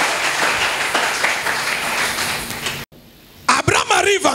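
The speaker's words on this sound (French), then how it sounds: "Est-ce qu'on peut acclamer pour la parole de Dieu?" A church congregation bursting into loud applause and cheering, sustained clapping for several seconds, which cuts off abruptly before a voice and further noise return.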